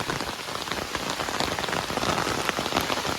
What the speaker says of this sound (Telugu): ఈ కొండలో వర్షం పడేటప్పుడు